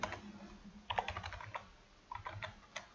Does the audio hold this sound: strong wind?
no